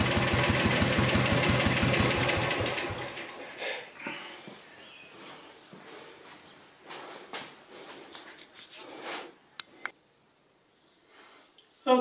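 A Moto Guzzi Falcone motorcycle engine with an unusual exhaust runs loud with a rapid, even pulse for about three seconds, then cuts out, leaving scattered clicks, rustles and small knocks.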